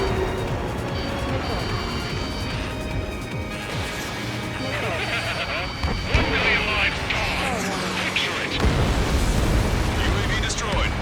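A UAV blown apart in the Ace Combat 7 flight game, a dense roaring explosion with crashing debris over continuous jet-engine noise and game radio chatter.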